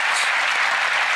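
Steady dense applause from a TV magic show audience, loud and continuous with no pauses.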